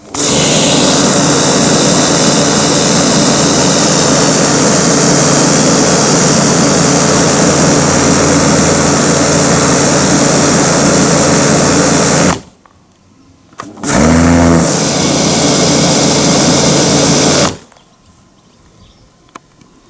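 A Stihl RE120 pressure washer with an 8 m hose and rotary nozzle roars loud and steady, cuts out abruptly, briefly restarts, then stops, leaving quiet.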